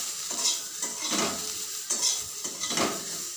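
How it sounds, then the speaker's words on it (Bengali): Bitter gourd with turmeric and salt is stirred in a sizzling pan, four rhythmic scraping sweeps of a spatula over a low frying hiss, close and moderately loud with no talking. "এবারে খুব ভালোভাবে নাড়াচাড়া করব।"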